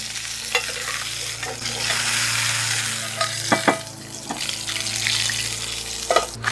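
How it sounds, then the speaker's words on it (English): A steak's sides searing in a hot pan after the heat is killed, a continuous close sizzle punctuated by several sharp scraping and clacking bursts as the meat is turned and pressed. "You can sear the sides if you want."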